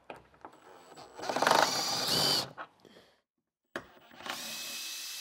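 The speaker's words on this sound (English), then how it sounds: "Next step, remove the four Allen head bolts into the top of the unit." A power drill-driver spins out Allen head bolts from the top of a bed and storage unit in a VW Transporter campervan, with two whirring bursts, then a silent gap and a further run of motor whine.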